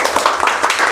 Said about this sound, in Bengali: ছোট রাফির জন্য জোরে একটি করতালি